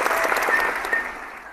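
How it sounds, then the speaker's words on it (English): Short burst of applause and crowd noise greeting a guest on a live talk show, brief and fairly even before fading out. "Let's give you a round of applause there."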